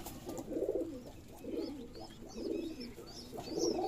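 Racing pigeons coo at a pigeon farm in Bangladesh while feeding their squabs, low rolling coos repeating about once a second nearby, with faint chirps over them.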